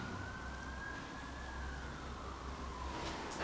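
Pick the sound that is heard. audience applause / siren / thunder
siren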